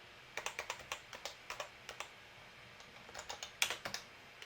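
Crisp, close computer keyboard typing while an address is edited, a string of distinct key presses in an uneven rhythm with a short pause midway, quiet room and no talking.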